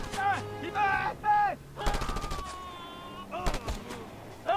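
Video game gunfire in Just Cause 2 crackles in rapid bursts and single shots, with sharp explosive cracks over engine-like tones and game effects, and someone talks at times.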